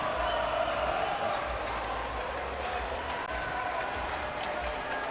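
A dense, steady roar from an enthusiastic crowd fills an arena during a high school boys' hockey final, a continuous wash of many voices and movement with no pauses.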